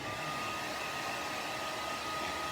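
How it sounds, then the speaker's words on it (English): A blow dryer blasting air to dry paint, a loud, continuous, even roar of whooshing air with a faint motor whine, running alone. "I turned on the blow dryer."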